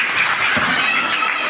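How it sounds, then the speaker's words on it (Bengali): Audience at a school award ceremony applauding, a dense, continuous burst of many hands clapping at close range with no talk over it. "আপনার সকলে একটু হাততালি দিন।"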